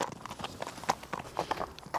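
A Kyrgyz horse being led at a walk, its hooves clip-clopping in an uneven rhythm close by on open ground, fairly quiet with no talk over it.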